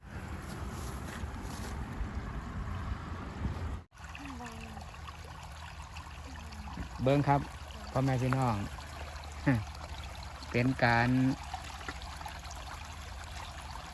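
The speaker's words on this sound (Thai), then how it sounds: "น้ำนี่ไหลมาได้ไงเนี่ย" Water runs through a rice paddy channel in Khon Kaen as dry-season planting begins, a steady rushing wash mixed with wind noise while someone talks over it.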